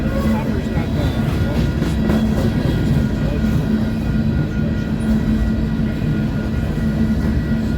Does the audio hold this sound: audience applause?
no